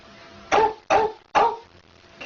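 A voice imitates a dog barking with three short, loud, rough bark-like bursts at an even pace, each one separate and close, ending in a fourth bark that starts to rise right at the end.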